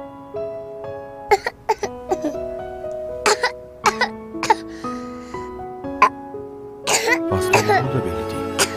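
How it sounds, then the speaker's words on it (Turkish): A child coughs repeatedly in short, sharp bursts in a Turkish TV film scene, the coughs spread through the clip over a steady musical tone, with a wetter cluster near the end. "Neden öksürüyor acaba?"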